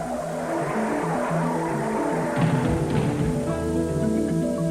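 Mario Andretti's race car skids and crashes during 1986 Indianapolis 500 time trials, a loud, steady roar of engine and sliding tires that grows harsher midway.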